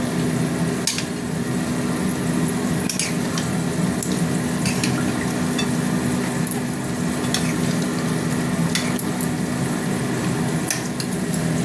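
Chicken curry cooking in a pan after water is poured in, a constant close bubbling sizzle with intermittent clinks and stirring taps, no voices.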